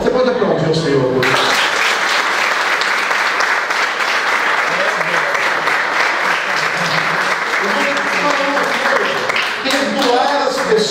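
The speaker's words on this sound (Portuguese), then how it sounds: "Você pode aplaudir o Senhor hoje" Church congregation applauding the Lord during a sermon, a long, steady, dense wash of clapping that stays loud and full throughout, with voices mixed in.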